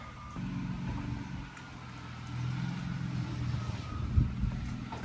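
A manual-swapped BMW E36 M3 sets off on its first test drive, its engine a steady low drone heard from inside the car, rising slightly as it pulls away, with no talk.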